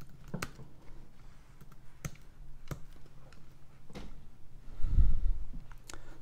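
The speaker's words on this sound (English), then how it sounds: "I type so much shittier when I'm being filmed." Keys clatter on a computer keyboard while items are listed for sale on eBay: uneven, close keystrokes with a few sharper clicks, and a slightly busier flurry near the end. No one talks.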